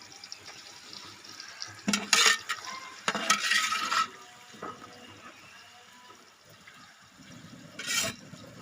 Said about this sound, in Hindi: प्याज़ों के अंदर आप देख रहे हैं कि हम मुसलसल खोंचा हिला रहे हैं